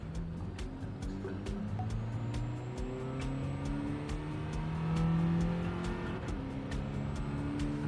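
Race car engine in Gran Turismo 7 holding a sustained, droning whine that rises and shifts pitch through gear changes, fairly faint and continuous with no talking.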